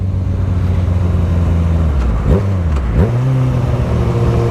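Yamaha FZ6R motorcycle with a Hindle exhaust accelerating out of a curve: loud, close engine drone that drops briefly at two quick gear shifts, then climbs again in pitch.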